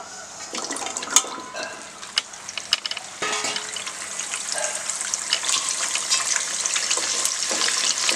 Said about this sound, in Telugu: స్టార్టింగ్ మీరు వేయగానే ఈ విధంగా బబులింగ్ వస్తుంది